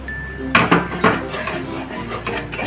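A spoon clinks and scrapes against a pan while Kashmiri chili powder is stirred into a Bengali yogurt prawn curry. A few sharp metallic knocks come close together, then softer stirring scrapes follow.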